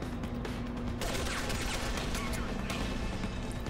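Gunfire in Deus Ex: The Fall, shots aimed at enemies' heads, crackling in quick bursts over a dense, loud game soundscape with a steady low hum beneath.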